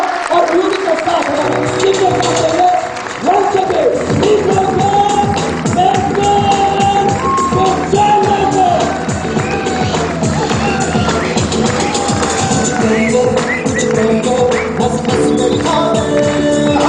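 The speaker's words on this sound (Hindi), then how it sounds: "जोरदार तरीके से तालियां और म्यूजिक के साथ" A large audience at a training event claps and cheers loudly and continuously to welcome a speaker onto the stage, with music playing underneath the dense applause for the whole stretch.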